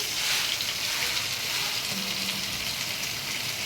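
Pointed gourd and potatoes fry in a pan with a dense, continuous hiss of hot oil that holds steady throughout.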